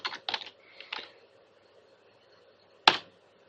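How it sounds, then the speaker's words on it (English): A few sparse keystrokes on a computer keyboard at a Windows 8 machine: a quick cluster of clicks at the start, then one sharper tap after a pause, in a quiet room. "I cannot type."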